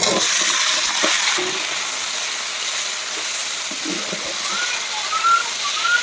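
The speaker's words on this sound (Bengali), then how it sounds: "ডুমু ডুমু করে কাটা আলু আর সিম বেগুনগুলো আমি দিয়ে দিচ্ছি" Diced potatoes, broad beans and eggplant frying in hot oil give a continuous close sizzle with occasional stirring scrapes and clatter, steady and fairly loud throughout.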